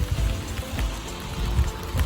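Steady summer rain in Germany patters and splashes on a surface nearby, a continuous hiss with scattered drips and no voices.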